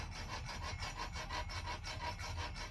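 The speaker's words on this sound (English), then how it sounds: "I'm going to take my anvil, I'm going to rub it, put quite a bit of pressure on it" A metal anvil tool is rubbed back and forth under heavy pressure along a 3/32 7x7 steel snare cable, making a close, rhythmic scraping rasp with regular strokes and no talking.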